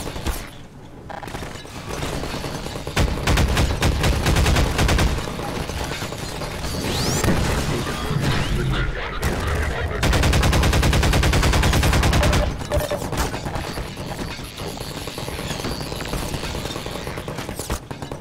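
Automated turret in Half-Life 2 firing rapid, dense bursts of gunfire, loud and continuous over busy game noise with brief gaps.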